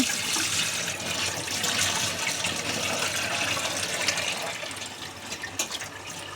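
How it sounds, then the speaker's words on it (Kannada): Steady splashing water runs continuously over mackerel being cleaned, a broad hissy wash like liquid poured or flowing from a tap, close and fairly loud throughout. "ಈಗ ಫಸ್ಟ್ ಇದು ನೀರು ಇದನ್ನು ಚೆಲ್ತಾ ಇದ್ದೆ ನಾನು"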